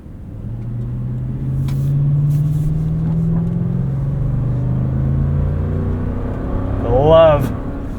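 A 2023 Lexus GX 460's 4.6-liter V8 hums steadily from inside the cabin while it is driven in sport mode through roundabouts, its drone swelling and rising in pitch, with a brief voice near the end.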